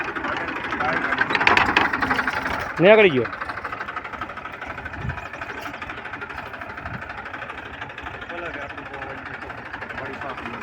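A tractor engine runs at a steady idle in a castor field, a low continuous rumble, with people talking over it and a brief louder burst early on.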